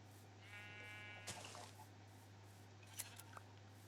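A Minecraft sheep gives a short harmonic bleat with a wavering tremolo, followed by a few clicks and taps from gameplay over a steady low hum.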